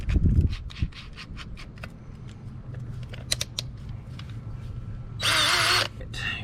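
Power drill fitted with a huge bit, mounted during a front splitter rod install on a Ford Focus ST: scattered handling clicks and knocks, then a loud steady whirring burst near the end, close by.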